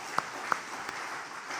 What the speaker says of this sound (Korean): 이번에 우리 권사님들 위해서 박수 한번 해주세요